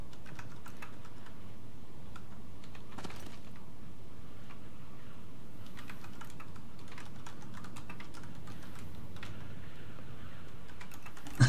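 Fast, steady clicking of a computer keyboard as someone types into the chat of the medieval game Life is Feudal, running alone at a close, moderate level.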